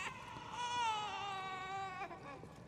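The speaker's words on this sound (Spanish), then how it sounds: "Llanto de bebé." A baby's cry from the video game Star Wars Jedi Fallen Order on PS5, a single drawn-out wailing sob lasting a couple of seconds, clear and close.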